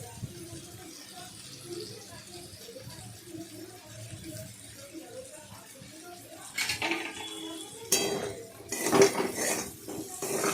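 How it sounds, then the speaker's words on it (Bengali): Small paneer cubes fry in oil in a wok, stirred back and forth so they do not burn: a low sizzle with scattered metallic scrapes and clanks of a spatula, growing louder toward the end. "এদিক ওদিক নাড়াচাড়া করলাম করে ভাজলাম পনিরটাকে"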